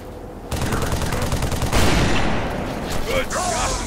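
Sustained automatic gunfire in the Halo 3 campaign, a loud dense burst of rapid shots running for several seconds, with voices calling out over the firefight.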